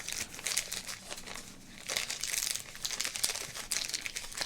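Foil baseball card pack wrappers, including 1991 Score Series 2, crinkle and crumple up close in steady, busy bursts with brief lulls, no voices present.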